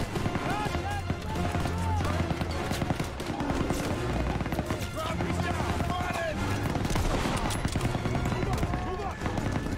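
Call of Duty: WWII combat: dense, continuous rifle and machine-gun fire with shouting voices mixed in, loud and unrelenting throughout.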